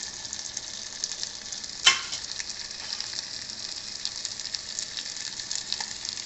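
Onions and tella galijeru greens fry in a pan with a soft, steady sizzle and a few light stirring clicks. One sharp tap against the pan stands out near the start.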